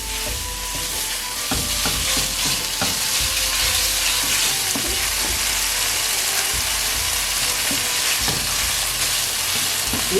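Chicken pieces fry in a hot pan with a continuous crackling sizzle, broken by scattered clicks and scrapes of stirring, close and steady for about ten seconds with no speech.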